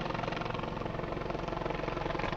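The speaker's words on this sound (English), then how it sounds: "is actually coming down from the helicopter" Helicopter descending to land nearby on a hike, a steady loud rotor thump and engine drone running continuously without break.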